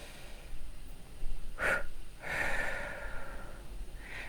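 A slow exhale during a guided relaxation exercise for releasing anxiety: a breath-like broadband rush of air near 1.6 s, followed by a longer, softer breathing-out sound, close and quiet.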